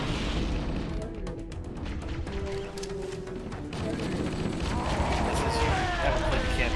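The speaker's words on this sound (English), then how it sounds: "Watch it, grenade. grenade." A grenade blast in the Halo: Combat Evolved co-op campaign on Heroic difficulty rings out amid continuous gunfire, bursts and booming game combat, loud and dense throughout, with a player's voice briefly heard.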